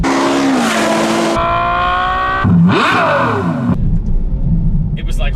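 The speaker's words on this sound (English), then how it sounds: "I heard an F12 with an aftermarket exhaust" Ferrari F12 with an aftermarket exhaust, its engine revving hard in rising and falling bursts that end abruptly, loud and close, with a short pause between revs.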